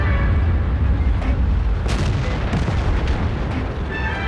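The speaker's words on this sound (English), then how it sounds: "When artillery zones in, however, it's time to run." Artillery fire in the World of Tanks PC game, dense rumbling booms and heavy blasts layered into a loud continuous roar of battle, with sharper shell impacts cracking through near the middle.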